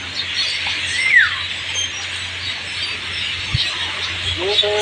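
Scattered bird chirps and calls from a flock leaving a tree sound outdoors at a Palawan resort against a quiet background hum, a few brief tweets from several birds at moderate distance.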